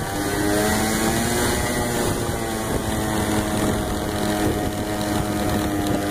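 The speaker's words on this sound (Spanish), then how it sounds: "Muy lindo pasear en moto acá en Mykonos." A motorcycle engine drones steadily under heavy wind rushing past the microphone, a continuous ride through narrow streets in Mykonos, Greece, with no pauses.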